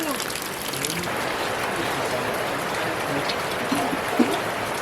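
Rain pours down around a village kitchen in Nepal as a steady, dense hiss of drops that stays even throughout, with faint murmuring voices in the background.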